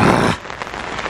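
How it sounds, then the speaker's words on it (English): Rain begins falling beside a private backyard carp-fishing lake, a dense close hiss of drops that is loudest at the start and then thins to a steadier, softer patter. "And there's the rain."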